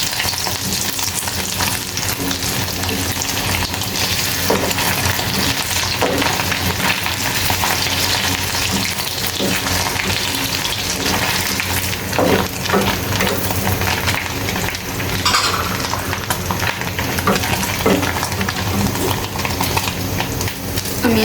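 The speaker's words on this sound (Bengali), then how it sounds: "তো প্রথমে ডিমগুলোকে ভেজে নিচ্ছি।" Eggs fry lightly in a pan with a loud, close, continuous sizzle and crackle that lasts the whole stretch. Occasional utensil scrapes and clinks are heard as the eggs are moved around.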